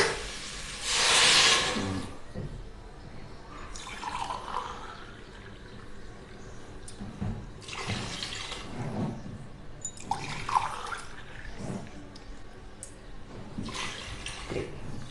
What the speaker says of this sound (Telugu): నెక్స్ట్ వాటర్ పోసుకోవాలి